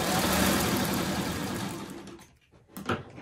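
A sewing machine stitches freeform quilt blocks such as Shoo Fly and Churn Dash, its needle whirring in a steady run that stops abruptly near the end, followed by a faint clunk.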